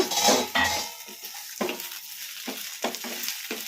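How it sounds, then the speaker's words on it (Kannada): Brinjal frying in a pan and being stirred, soft sizzling under a series of spoon scrapes and clinks against the pan, close and moderately quiet. "ಐದು ನಿಮಿಷ ಆಗಿದೆ ಬದನೆಕಾಯಿ ಫ್ರೈ ಮಾಡೋಕೆ ಇಟ್ಟು ಈಗ ಮುಚ್ಚಳ ತೆಗೆದು ನೋಡೋಣ ಕಲಿಸ್ಕೊಂಬಿಡೋಣ"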